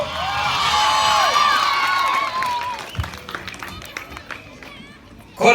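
Congregation at an outdoor gospel crusade in Arusha, Tanzania breaks into a burst of scattered hand clapping and cheering after loud sung worship, the claps mid-distance and fading toward the end.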